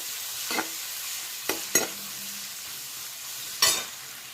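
Onion, garlic and mustard seeds stir-frying in hot oil, a steady soft sizzle with four sharp spatula scrapes and stirs standing out, close and alone.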